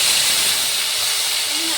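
Green masala hits hot oil for a Marathi-style vegetable dish, giving a loud, continuous, close hissing sizzle that stays steady throughout.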